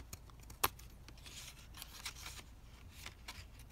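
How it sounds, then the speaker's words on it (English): Scissors cutting small paper triangles for a long fold-out pocket craft: one crisp snip stands out early, followed by soft, faint snipping and paper rustle in a quiet room. "cut my little triangles"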